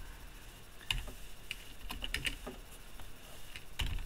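Typing on a computer keyboard while entering a polyline drawing command: scattered keystroke clicks, single taps and quick pairs, close and fairly quiet over a low room hum.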